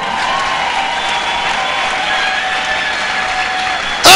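A church congregation applauds together in a dense, loud, steady wash of clapping that holds throughout, close and filling the room, ending with a sudden sharp burst.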